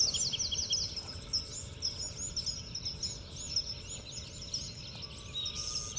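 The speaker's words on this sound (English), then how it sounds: "There are bird sounds all around me, everywhere. All different birds singing. I hear all kinds of sparrows." Sparrows and other birds sing at sunrise in a garden, with bright, continuous chirps and trills overlapping at moderate distance above a low background hum.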